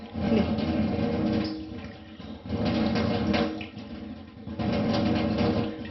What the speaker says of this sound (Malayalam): ഇനി നമുക്ക് വെള്ളം ഒഴിച്ചു വിടാം കേട്ടോ.